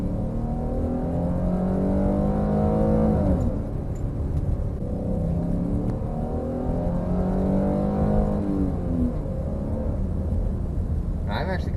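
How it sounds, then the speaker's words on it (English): A Ford Flex family car drives along with a steady engine hum and low rumble that rises and falls with gentle revving, heard from inside the cabin. "I'm actually quite enjoying my drive in this car."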